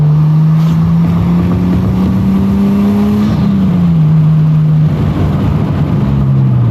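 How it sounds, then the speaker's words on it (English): Nissan Skyline R34 with an RB25DET engine and HKS cone filters, loud and close, rising smoothly through revs, dipping at a shift, then pulling again, with a faint turbo whistle above the engine tone. "I can already tell you the RB25 DET sounds really nice and smooth"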